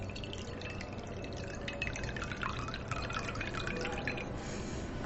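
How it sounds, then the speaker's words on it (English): Coloured water being poured into a glass, a bright, trickling splash with small drips and glassy ringing, close and fairly quiet, with no voices. "See, I am pouring color water in it."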